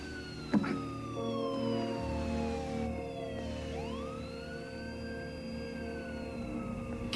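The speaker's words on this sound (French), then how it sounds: "J'ai entendu une sirène de police." A police siren wails with rising and falling sweeps in a tense scene from a horror film, sounding somewhat distant beneath a low background rumble.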